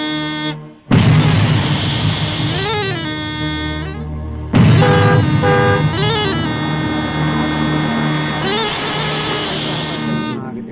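Vehicle horn honking on a road, sounding as loud, sustained blasts, the first cutting off and a second long blast following, with wavering tones layered over a low rumble.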